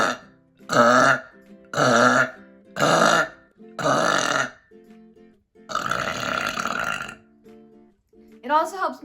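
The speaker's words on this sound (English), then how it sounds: "When I want to get like a good burp, that would be my go-to drink." A person lets out a run of loud, close burps after drinking soda, four long belches in steady rhythm followed by a longer rumbling one and a short final croak.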